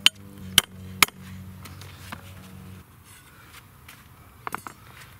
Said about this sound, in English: I'm going to take my smaller rebar, and I'm going to punch a hole